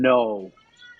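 A deaf cat gives a single loud, strange, drawn-out meow close by, hungry and insistent, followed by faint quiet sounds.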